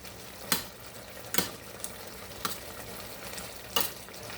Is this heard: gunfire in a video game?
no